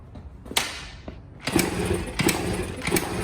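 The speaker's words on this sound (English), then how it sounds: "we're gonna fire the bike up and see if it runs" Someone tries to start a vintage dirtbike engine with a cleaned carburetor and no airbox, giving a few sharp kick thumps followed by rough, uneven mechanical churning that never settles into a steady idle.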